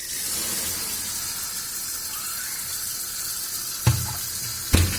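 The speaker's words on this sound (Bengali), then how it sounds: "প্রেসারের মধ্যে জল দিলে খুব তাড়াতাড়ি খুলে যায়।" Tap water runs steadily over a hot pressure cooker to cool and release it, a continuous broad rush with a faint hiss, then two sharp clanks near the end as the cooker is handled.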